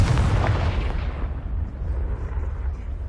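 A Confringo spell blast in Hogwarts Legacy, a loud booming explosion that hits at once and then rolls off into a long, low rumble that slowly fades over a few seconds.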